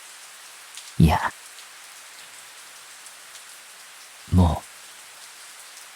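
Steady rain hiss falls through a Project Sekai story scene, a soft continuous wash under two short bursts of spoken dialogue.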